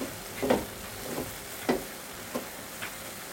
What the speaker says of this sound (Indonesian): Lalu kita aduk-aduk lagi.